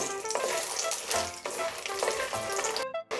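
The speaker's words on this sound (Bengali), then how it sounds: "এর মধ্যে দিয়ে দিচ্ছি বড়িগুলো আমি হালকা ভেজে নেব" Urad dal bori fry in hot mustard oil in a pan, giving a steady close crackling sizzle with occasional stirring clinks, before the sound briefly cuts out near the end.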